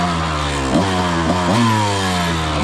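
Dirt bike engine with a freshly upgraded spark plug, revving loudly and close in repeated throttle blips, the pitch rising and dropping in quick surges over a steady idle.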